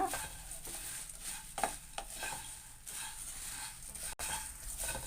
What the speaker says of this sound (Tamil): பொரியை வந்து நல்லா தீயாமல் மீடியம் ஃப்ளேம்லேயே வச்சு வறுத்துக்குங்க.